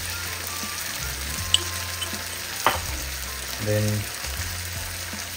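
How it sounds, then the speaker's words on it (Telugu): Garam masala fries in a pan with a soft, steady sizzle close by, broken by a few scraping stirs and light clinks, with a brief spoken word. "టీ స్పూన్ ఇక్కడ గరం మసాలా వేసుకున్నాను."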